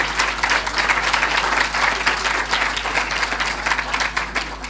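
Sustained, dense audience applause for the panelists at the OR Tambo debate fills the hall, loud and steady from start to end with no break.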